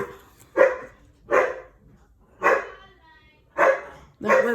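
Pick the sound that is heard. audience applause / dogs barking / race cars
dogs barking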